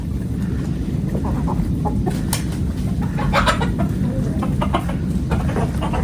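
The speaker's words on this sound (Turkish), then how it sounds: "tavukları bıraktık tavuklar yemlerini yesin" Chickens cluck in a steady, close chorus over constant low wind rumble from a snowstorm, with scattered sharper calls rising above the noise.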